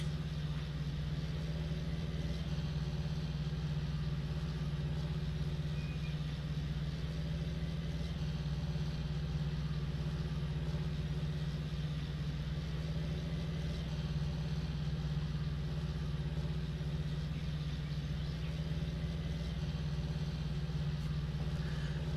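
A John Deere 1770 tractor in Farming Simulator 19 runs with a steady, low droning engine hum, constant and unchanging at moderate loudness throughout, with no talking.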